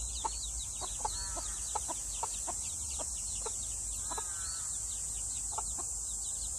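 Chickens cluck in a backyard garden plot during a sudden heavy downpour, with short repeated calls from several birds sounding at a moderate distance over steady, loud rain hiss.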